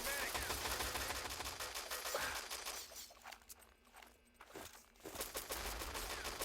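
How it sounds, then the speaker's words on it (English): Rapid automatic gunfire from the World War II shooter Enemy Territory during a 6-on-6 LAN tournament match, dense bursts of shots crackling loudly with a brief lull midway before firing resumes. "He's getting shot in the back here in courtyard."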